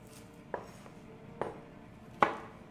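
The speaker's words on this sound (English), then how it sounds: "There's only a little bit of coarse chopping." Garlic being coarsely chopped with a knife on a board, three sharp distinct chops spaced about a second apart over a quiet kitchen background.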